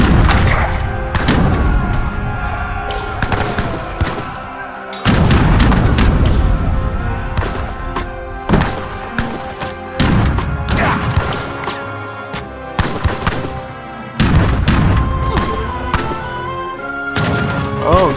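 Organ guns and muskets fire in battle in Age of Empires 3 Wars of Liberty, heavy booming volleys and crashing impacts repeating every second or two, loud and dense, with scattered smaller shots between.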